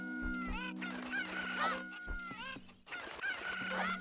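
Chickens from the chicken minigame in a Zelda Ocarina of Time randomizer: several loud, close clucks and squawking crows overlapping in quick succession against steady game music.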